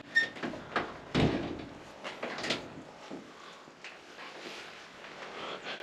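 A door, propped open with only a brick inside an abandoned mega yacht hotel in the mountains, bangs shut near the start with a sharp thud, followed by softer knocks and rustling in a quiet interior.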